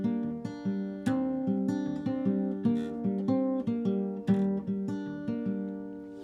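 A fingerpicked acoustic guitar plays the chord section of a song, with plucked notes shifting back and forth between chords in a steady rhythm, soft and close, and no voices.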